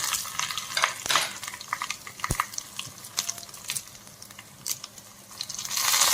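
Garlic, dried red chillies and cumin fry in hot oil for a tiffin-style sambar, a steady close sizzle with crackling pops and the scrape of a stirring spoon against the pan throughout.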